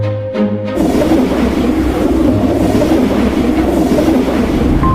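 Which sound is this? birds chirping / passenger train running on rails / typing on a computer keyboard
passenger train running on rails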